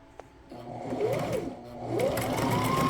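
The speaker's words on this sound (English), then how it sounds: "I will sew on top of the waist over there" Sewing machine stitching the waistband of a two-tone flare skirt, its motor whirring close by and rising in speed in two surges, with a faint click at the start and no talking.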